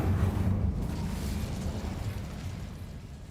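A fire spell cast in Hogwarts Legacy erupts in a heavy, rumbling whoosh of flame that starts loud and slowly fades over a few seconds, with no speech.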